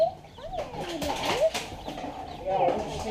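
Chickens cluck and coo in short bursts close by, with people talking over the birds.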